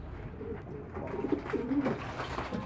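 Pigeons coo in a loft, soft rounded calls rising and falling close by over a low rustling background, a few overlapping coos in quick succession without any speech.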